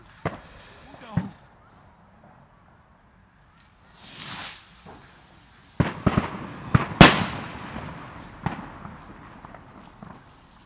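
New Year's Eve fireworks and firecrackers go off outdoors: a few sharp isolated bangs, then a hissing rocket, followed by a dense cluster of loud cracks and pops with crackling tails and some voices nearby.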